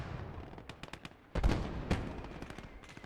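Grenade blast in the World War II game Gates of Hell: Ostfront, one sharp booming explosion amid scattered distant gunfire and cracking shots, with a second smaller bang shortly after.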